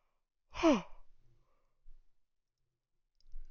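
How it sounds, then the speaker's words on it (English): A single human yawn, close and fairly loud, a long drawn breath sliding down in pitch, then silence with a couple of faint soft noises. "Yawn. Excuse me."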